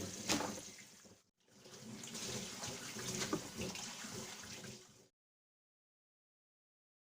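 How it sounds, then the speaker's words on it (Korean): Running water rinses freshly cut napa cabbage pieces for kimchi, a steady splashing wash with a brief pause early on, then stopping abruptly near the end. "먹기 좋게 썰은 배추를 이제 한번 씻어 주겠습니다"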